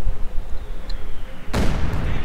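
Artillery bombardment in a real-time strategy game about World War II Germans and Soviets: a sudden loud, sustained explosive roar bursts in after a quiet stretch of low battlefield rumble and continues to the end.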